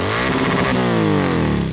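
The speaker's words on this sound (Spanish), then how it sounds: "Viene también con el escape Zarp estilo Scramble, que es muy alto y suena de maravilla." A Triumph motorcycle built by Tamarit Motorcycles, fitted with a high Zarp scrambler-style exhaust, revs loud and close, then the engine note sweeps down as the revs fall away, with no speech.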